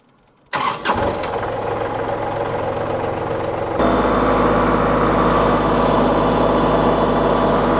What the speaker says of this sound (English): We've got our PTO shaft, conveyors going